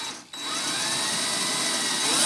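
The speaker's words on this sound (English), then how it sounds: "this little Delrin reducer that I made is on the DeWalt drill. I'll run at a slow speed first" A DeWalt power drill fitted with a homemade Delrin speed reducer runs at slow speed, giving a steady, close mechanical whine after a brief dip at the start, with no talking.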